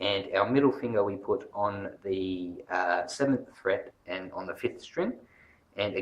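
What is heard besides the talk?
No everyday noises stand out.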